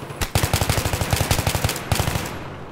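Rapid automatic gunfire in Battlefield 3 on the Operation Métro map, a fast string of loud close bursts with a short pause before a final volley.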